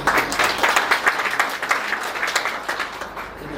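An audience at a retirement function claps steadily, a dense, fairly loud applause with distinct individual claps that gradually tapers toward the end, with no clear speech over it.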